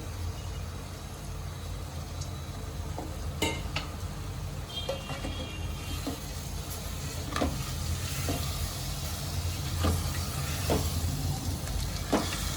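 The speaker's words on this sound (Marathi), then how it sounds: "तांदूळ आणि डाळीला पण ह्याच्यासोबत एकत्र करून ह्याला दोन ते तीन मिनिटापर्यंत मी चांगलं तळून घेते" Rice and dal fry together in a pan for Khandeshi khichdi, a steady close sizzle broken by sharp metallic clinks and scrapes of a spoon stirring against the pan, no voices.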